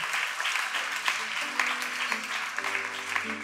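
Congregation clapping along at a church worship gathering, a dense steady patter of many hands with a low sustained tone and faint voices underneath.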